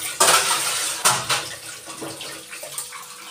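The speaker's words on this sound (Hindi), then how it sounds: "बर्तन बस धुल लिया है" Dishes washed under running water in a home kitchen, a steady loud rush of tap water with clattering utensils and knocks of pots, two sharp bursts early on, no talk.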